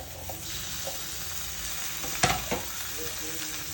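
Tomatoes drop into a pan of onions and dried red chillies frying for a tomato chutney, a steady hiss of oil broken by a sudden louder sputter and clatter partway through, close up.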